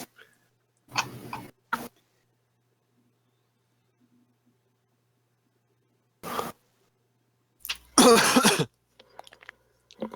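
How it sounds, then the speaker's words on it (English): A few short coughs and throat-clearing bursts in an otherwise quiet room, close and moderately loud, separated by long silent pauses. "That almost sounded like a fake cough."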